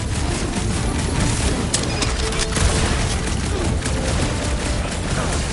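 Dense, continuous gunfire rattles through a video game shootout, a loud unbroken barrage of shots and booms with no pauses across the whole stretch.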